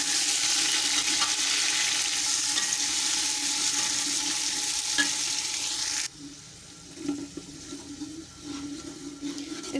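Onions, garlic, tomatoes and green chillies fry in a pan with a loud, steady sizzle that drops suddenly partway through, leaving quieter frying with occasional stirring clinks.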